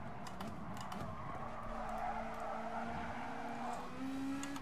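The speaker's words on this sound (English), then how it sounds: "I think I am braking too late here." Race car in Gran Turismo Sport braking hard into a corner, with sustained tire squeal and skidding over a steady engine drone, a rising pitched whine near the end.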